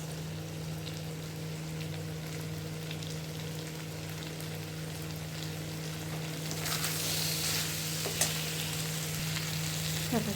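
A potato curry mixture with a sprinkling of coriander leaves being sautéed in a pan for aloo dum gives a steady sizzle and frying hiss under a constant low hum, with a few soft stirring scrapes near the end.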